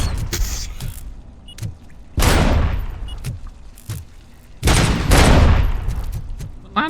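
Landmines and turrets in a Robocop video game: several loud blasts with long noisy decays a couple of seconds apart, interspersed with shorter sharp shots and low rumbling in between.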